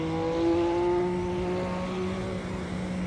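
A racing car engine in the Assetto Corsa video game, a Mercedes or Porsche, giving a steady, close, tonal drone that eases slightly toward the end.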